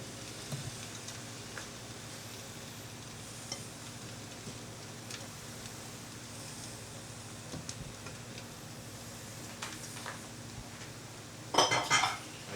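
Beaten eggs are spread around an oiled pan for matzo brei, with soft scraping and clinking of a utensil against the pan over a low steady background hum, ending in a brief cluster of louder clatter.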